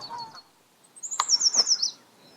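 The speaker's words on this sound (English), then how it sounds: "Some birds come here specifically to breed, like the yellow warbler that we're listening to back on this island." A yellow warbler sings in a freshwater marsh wetland, a short bright phrase of rapid high sweet notes, fairly near above faint background ambience.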